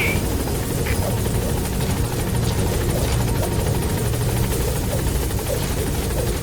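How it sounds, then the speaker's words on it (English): A support helicopter arriving in Metal Gear Solid V: The Phantom Pain, its rotor thrumming steadily and loudly throughout, a constant dense chopping roar with no break. "Support helicopter has arrived."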